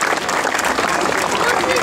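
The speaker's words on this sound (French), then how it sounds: "Je vois que vous pouvez l'applaudir très très fort." A crowd at the Critérium de Lisieux cycling race loudly applauding rider Benoît Cosnefroy, a brief, dense and sustained burst of clapping.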